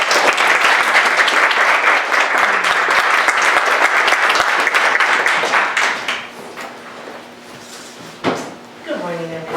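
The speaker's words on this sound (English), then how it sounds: "let us give a big applause for our team." An audience at a women's studies in religion student conference gives the team a loud burst of applause that fades after several seconds, followed by quieter room noise, a thump and a voice starting to speak.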